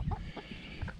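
Chickens cluck in a quick burst of short, close clucks over about a second.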